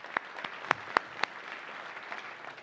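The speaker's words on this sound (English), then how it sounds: "can we give Chris a big round of applause, our amazing host for this evening?" Scattered applause from a small, distant audience at an evening awards event, honouring the host. A few sharp individual claps stand out over a faint, thin patter.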